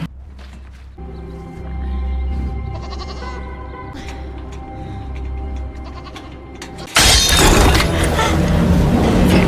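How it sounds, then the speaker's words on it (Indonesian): A goat locked in an iron cage bleats in a drawn-out, wavering cry, loud and close, followed by a harsher noisy burst from the same scene. "melihat ada seekor kambing yang sedang dikurung di kandang besi"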